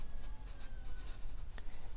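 A teacher writes out a math formula, giving a soft, continuous scratching of strokes. It is faint and close, with no talk over it.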